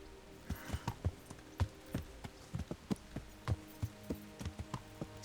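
Horses in the medieval game Kingdom Come: Deliverance clip-clop at a walking pace, their hooves striking in an uneven, steady rhythm at moderate distance, with faint ambience behind.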